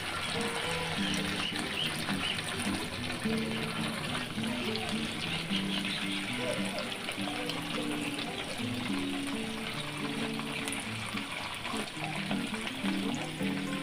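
Chicken pakoras frying in hot oil, a steady dense sizzle that runs without a break, with a voice talking over it throughout.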